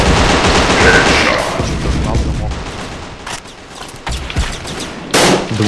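Dense rapid gunfire from a first-person shooter game rattles almost continuously in loud bursts, with players' voices talking over the shooting.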